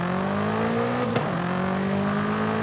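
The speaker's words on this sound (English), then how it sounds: "Oh, this car sounds so good. I would have thought these modern V8s would be muffled, but nah, this is decent." Twin-turbo V8 of an F90 BMW M5 in the racing game Forza Horizon 5, a steady droning engine note that dips sharply, as if on a gear change, then climbs again, loud and alone.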